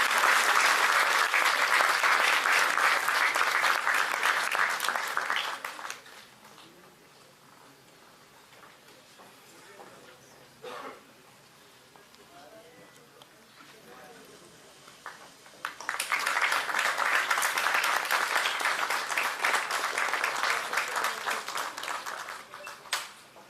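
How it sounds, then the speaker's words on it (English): Audience applause at a university law faculty valedictory award ceremony: a loud, sustained wave of clapping that fades to a quiet hall, then swells again into a second long round. "Please have a huge round of applause"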